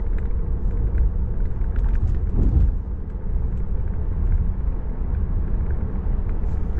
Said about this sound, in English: Car starts to go.